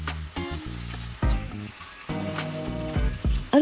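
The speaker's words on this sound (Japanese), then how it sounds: "臭み取りに片栗粉をまぶして焼きます。" Pieces of mahi-mahi coated in potato starch sizzle steadily in a frying pan, a close and continuous crackle that swells in short bursts, with no talking.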